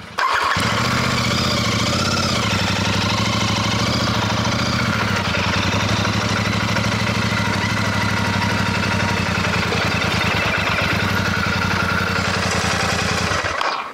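A Royal Enfield Super Meteor 650 motorcycle engine idles steadily and close by, a loud, even low rumble with rapid regular pulsing that holds throughout.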